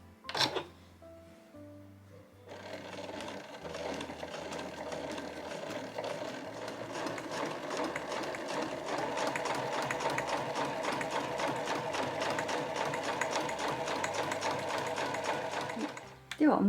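A home sewing machine stitches a tote bag of No. 8 Marimekko canvas in a fast, steady mechanical whir that runs for well over ten seconds. A voice speaks briefly before the stitching starts.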